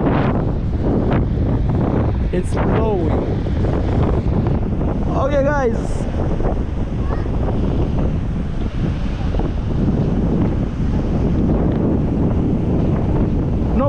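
Strong, steady wind buffets an outdoor microphone on a sunny, windy day by cold ocean water with surfers nearby, a constant roar throughout with a person talking over it.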